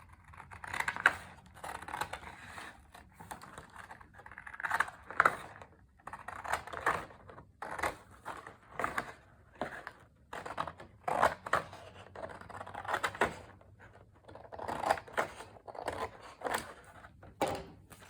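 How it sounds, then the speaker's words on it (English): Scissors cutting across a sheet of paper along a marked line in repeated crisp snips, each a short bright crunch in an uneven rhythm with small pauses between them. The sound is close and fairly quiet, with no talking. "I'm going to cut down our 13-inch line all the way across the paper."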